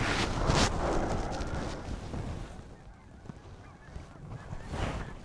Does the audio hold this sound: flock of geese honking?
yes